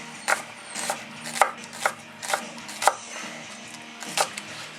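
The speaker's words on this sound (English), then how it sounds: "just cut them nice and thin" A knife chops green onions thinly on a board in a home kitchen, eight or nine crisp, evenly spaced cuts close up, with no talking.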